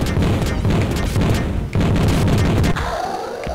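Rapid spread-weapon fire in the Vectorman video game, dense continuous bursts of booming shots that run almost without a break before ending abruptly.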